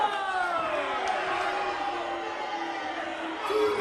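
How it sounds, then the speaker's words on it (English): Wrestling crowd at a live indoor show backing Ken Dixon against Tony Macko, a sustained whooping cheer with layered shouts and whistles, rising slightly at the end. "It sounds like this crowd is solidly behind Ken Dixon."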